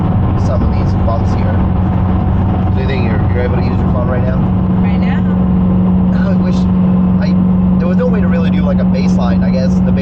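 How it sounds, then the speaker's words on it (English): Steady road drone and low engine hum from inside a car cruising a highway on stiff coilovers, a continuous rumble throughout with voices talking in the cabin. "just driving right now on this highway"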